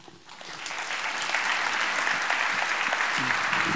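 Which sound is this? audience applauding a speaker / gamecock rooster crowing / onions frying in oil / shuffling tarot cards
audience applauding a speaker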